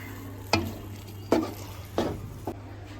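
Green chillies and curry leaves are stirred in a frying pan for a Kerala beef gravy. Four distinct spatula scrapes land over a soft, steady sizzle, with no talking.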